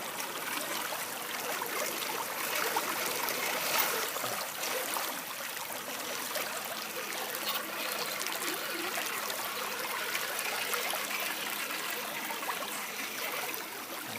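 A shallow creek trickles and burbles steadily, a continuous close wash of running water with no pauses or voices, in a dry spell after little rain.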